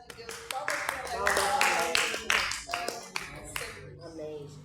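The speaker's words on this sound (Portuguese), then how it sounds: "Palmas para" A church congregation claps in a loose, steady rhythm, sharp close hand slaps repeating beneath a voice and tonal sound, tapering off near the end.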